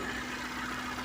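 A Suzuki APV engine idles steadily and smoothly with no misfire, a faint, even low hum with a constant tone and no stumbles.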